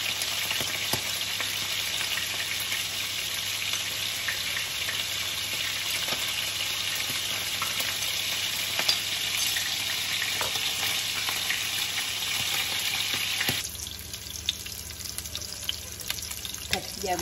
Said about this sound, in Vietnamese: Giờ mình chiên vàng rồi